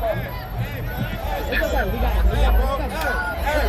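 A street protest crowd, heard as a dense, continuous hubbub of many voices with overlapping shouted calls, close and fairly loud throughout, the massed voices rising toward the middle.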